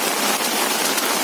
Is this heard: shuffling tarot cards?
no